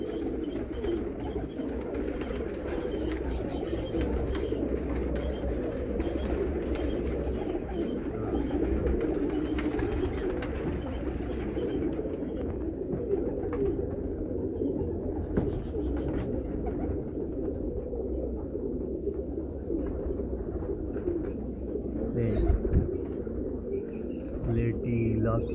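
Pigeons kept for breeding in a loft setup coo steadily and continuously, a dense layered murmur of many birds close by with occasional chirps, with no speech over it.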